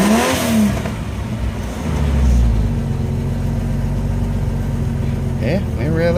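A Jeep XJ engine idles loudly nearby, check engine light on, rising in a couple of quick revs at the start and near the end.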